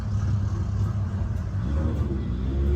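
A Formula Drift car's old motor rumbles steadily at idle in the pits at Irwindale, a loud continuous low drone with no revving peaks.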